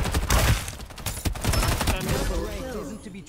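Rapid gunfire bursts in the battle game Farlight 84, loud and close, with dense crackling shots through the first half fading into reverberant tails and faint voices near the end.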